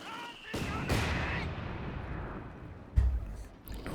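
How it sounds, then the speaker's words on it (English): Mortar shells landing in a Company of Heroes 2 battle, heavy booming impacts around one second and three seconds, with a low rumbling wash of battlefield noise between them and no voices. "Nope, just a regular mortar barrage."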